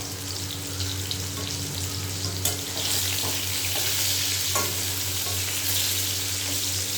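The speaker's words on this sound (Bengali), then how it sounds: "পটলটা ভাজা হয়ে গেছে, এবার তুলে নেব" Pieces of pointed gourd fry in oil in a pan with a constant close sizzle, punctuated by soft scraping and clicks of stirring, no voices.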